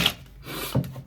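A short, dry rasp of tarot cards being shuffled by hand, two brief rubbing bursts close up in a quiet room.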